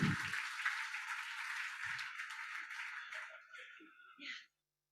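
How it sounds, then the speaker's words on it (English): A crowd at a recovery community event gives a round of applause that runs for about four seconds, moderately loud and dense, then thins out before cutting to silence. "A round of applause for you."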